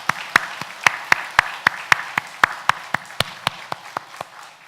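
Rhythmic unison clapping from a church congregation during a Sunday worship service, with sharp, evenly spaced claps at a brisk steady beat, fairly close and clear, over a soft wash of lighter clapping.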